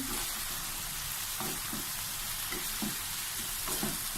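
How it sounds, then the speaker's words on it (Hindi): Boiled spaghetti, vegetables and cabbage for chicken chow mein are tossed in a hot pan with two spoons, giving a constant close sizzle with repeated soft stirring clatters every second or so. "उबाल के रखी हुई थी वो डाल देंगे। दो चम्मच लेंगे, उससे अच्छे से मिक्स करेंगे।"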